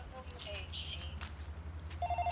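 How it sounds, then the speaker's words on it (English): A mobile phone rings with short repeating electronic tones that begin near the end, heard through steady low rumble from a car wash cleaning a truck, with faint chirps earlier. "Do you hear that? That's my phone."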